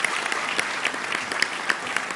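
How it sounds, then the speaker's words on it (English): An audience applauds at a human rights award ceremony, giving a short, dense burst of steady clapping that fills the room evenly from start to finish. "Please, can we give him a round of applause,"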